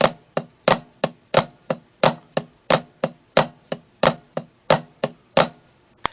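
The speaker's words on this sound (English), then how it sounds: "Flam taps have an 1/8 note feel, and we add a regular tap between flams." Flam taps on a snare drum at a steady eighth-note pace, about twenty sharp close strokes in six seconds, each flam a doubled grace-and-main hit alternating with single taps, played alone with no talking.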